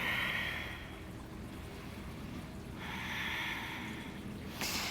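Deep, slow breathing during a vinyasa yoga session, two long airy exhales a few seconds apart followed by a short sharp breath, close and soft with no talking.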